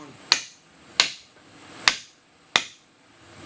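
Four crisp, evenly spaced taps ring out close by as a wooden handle is knocked onto an adze made from a lawn mower blade, with quiet between strikes.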